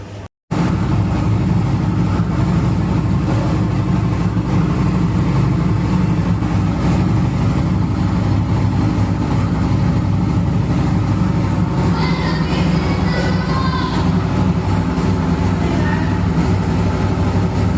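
A washing machine running in dry spin mode drones steadily and loudly, a continuous motor hum with faint electronic beeps partway through.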